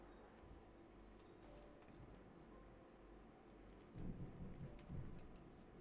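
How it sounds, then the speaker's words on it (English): Heavy thunder outside rolls as a continuous low rumble, swelling louder toward the end, with no talking over it. "God damn, it is thundering outside. Like hard."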